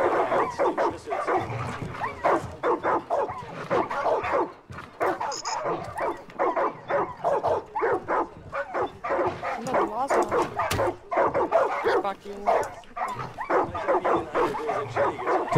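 In Far Cry 5, dogs bark and yip nearby in a steady, insistent stream of short sharp barks. A few whimpers mix in, and the barking barely pauses from start to finish.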